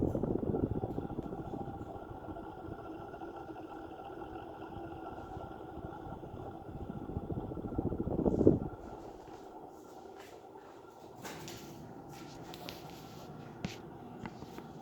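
A ceiling fan winding down, its low whirring hum steady at first, swelling briefly, then dropping away to a much quieter residual drone with a few faint clicks.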